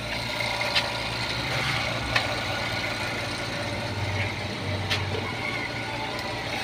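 An air compressor runs steadily while blowing dust out of a videoke player, a constant broad hiss over a low mechanical hum with a few faint clicks.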